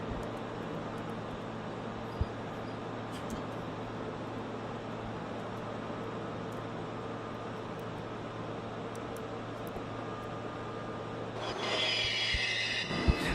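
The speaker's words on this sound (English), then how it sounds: "This is a Land of Sand bound D express train." A D express subway train in a train simulator game, running with a steady low rumble and a constant hum. Wheels squeal faintly, and near the end a brighter rush of noise swells up.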